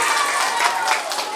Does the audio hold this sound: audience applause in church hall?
yes